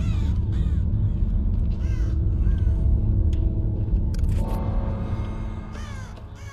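A crow in Dead by Daylight caws repeatedly, close and clear, over a steady low rumbling game ambience.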